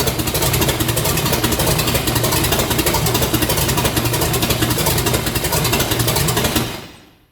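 A Mopar 440 truck engine with no mufflers runs steadily and very loud at close range with a raw, pounding exhaust roar, then cuts off near the end as the sound fades quickly.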